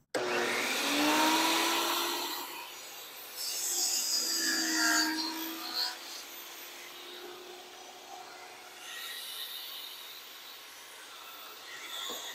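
A woodworking power tool set up with a fence spins up to a fairly quiet, steady whine. Its pitch shifts and rasps over several seconds, with no talking.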